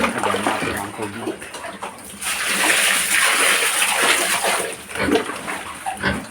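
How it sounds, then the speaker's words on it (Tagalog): Water poured into a trough for three-month-old pet piglets, a steady splashing rush that swells midway, with pig grunts and a voice mixed in. "Lagyan natin ang tubig"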